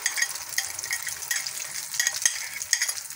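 A vegetable omelette mixture is poured into a pan with a little hot oil over low heat, giving a soft, continuous sizzle with light scraping and stirring clicks close by.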